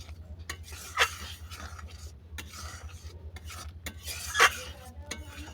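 Cabbage dal being stirred in a pot after cumin powder goes in, with soft continuous scraping and rubbing and two sharper spoon scrapes against the pot.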